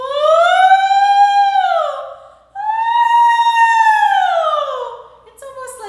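A voice imitates a siren in a vocal exercise for opening up the higher range of treble voices: two long, smooth sung glides that rise and fall, with a short breath between them.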